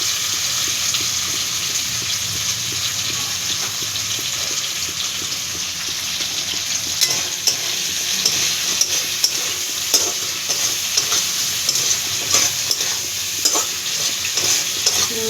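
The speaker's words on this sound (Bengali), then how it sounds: "যতটা লাল করে চিংড়ি মাছটা ভাজবে সঙ্গে আলুটাকেও ভেজে নিতে" Shrimp and potatoes fry in a pan with a continuous close sizzle, broken by occasional light clinks and scrapes of stirring.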